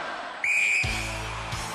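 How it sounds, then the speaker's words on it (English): A referee's sharp start whistle on the 1993 Gladiators UK television show, one loud shrill blast followed by a deep low rumble and crowd noise from the arena. "Gary, you will go on my first whistle."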